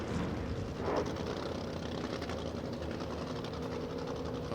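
Pre-war sports cars returning to the pit lane at Silverstone, a blended buzzing drone of engines and exhaust notes, steady and fairly distant, without any talk.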